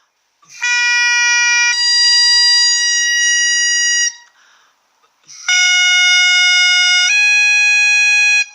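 High, reedy bagpipe chanter notes, loud and sustained, playing two long held phrases separated by a brief pause.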